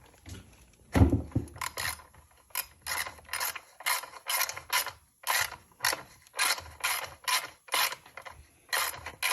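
A 5/8 wrench ratchets to loosen the spark arrestor on a STIHL FS240R trimmer, making a rapid, regular series of close, crisp clicking strokes after an initial clunk, with short pauses between them.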